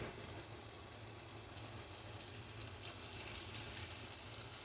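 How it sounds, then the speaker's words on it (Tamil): Rava snacks deep-fry in hot oil, giving a steady, even hiss of bubbling with faint crackles. It runs unbroken, quiet and close, with no talk. "இப்போ நல்லா எண்ணெய் காஞ்ச உடனே எண்ணெயில் போட்டு அப்படியே பொரிச்சு எடுக்க வேண்டியது தான்"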